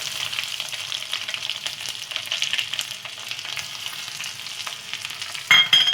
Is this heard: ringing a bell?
no